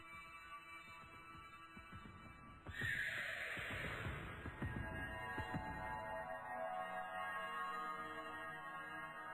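A horse whinnies in the Homestuck game, a bright, sudden neigh that rises out of a quiet, hissy background and then fades into a lingering tone.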